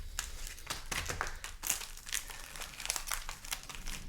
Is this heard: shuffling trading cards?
yes